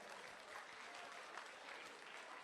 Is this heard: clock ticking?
no